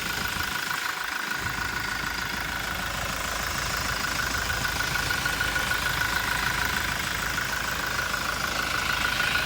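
A 2016 Toyota Innova Crysta V diesel engine idles with a steady, even clatter and hum that runs unchanged throughout, close and fairly loud.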